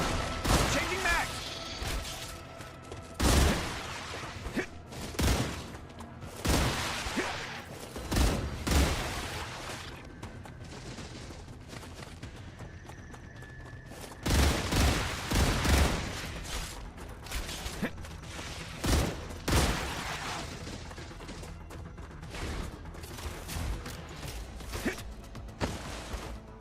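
Artillery gunfire in the StarRupture video game, heavy booming shots recurring in uneven bursts through the clip, loud and broadband, with mechanical clatter between volleys.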